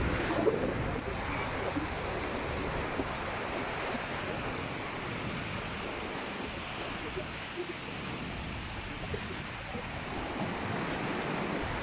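Moderate surf rolls in at Bagasbas Beach, a continuous broad wash of breaking waves with wind buffeting the microphone, steady and fairly loud throughout with no clear pauses.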